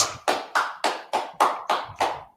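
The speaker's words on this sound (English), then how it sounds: "Clap it up for the class." Eight crisp, evenly spaced claps ring out close and clear, a rhythmic unison clapping from a group applauding the class, with no talking over it.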